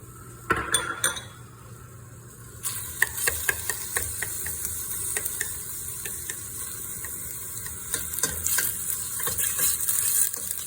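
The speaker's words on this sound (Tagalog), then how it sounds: "inuuna yung onion na gisahin para lumabas yung kanyang lasa" Onion sautéing in cooking oil in a pan, with a steady sizzle under repeated clinks and scrapes of a metal utensil against the cookware, close and moderately loud.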